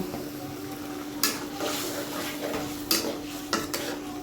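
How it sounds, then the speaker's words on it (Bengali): Spice masala is sautéed with tomato in a pan for surma fish curry, soft sizzling under a few distinct clanks and scrapes of a spoon against the pan. "এখন এটাকে ভালো করে আমি কষিয়ে নেব"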